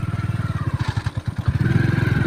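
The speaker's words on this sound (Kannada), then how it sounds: "ಸೀದಾ ಬ್ರಿಜ್ ಮೇಲಿಂದ ಬೈಕ್ ಹೋಗುತ್ತೆ ಹೋಗ್ತಾ ಇದ್ದೀವಿ" A motorcycle crosses a hanging footbridge over water at Ulavi, near Shivapura, engine running steadily close by with a rhythmic clattering pulse from the bridge planks, rising slightly toward the end.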